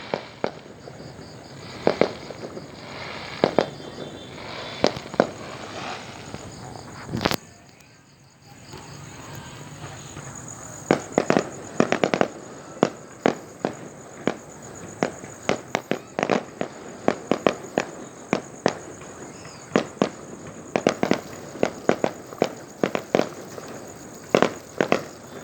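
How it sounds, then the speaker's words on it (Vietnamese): Fireworks bursting during New Year 2023 celebrations, a long series of sharp cracks and pops at irregular intervals, some close and loud, over a steady background of crickets and faint ambience. "gọi ba, gọi Thư coi pháo hoa nè"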